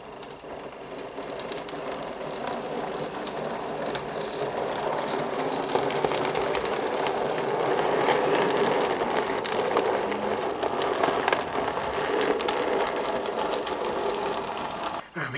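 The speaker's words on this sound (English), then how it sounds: "So let's just watch the train depart." A 009 narrow gauge model train pulling away from a model railway layout, a close, steady mechanical whirr with fine ticking that grows louder midway and continues to the end.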